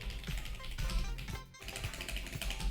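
Rapid keyboard typing, dense clattering keystrokes close up and continuous, with a brief pause midway before the tapping resumes.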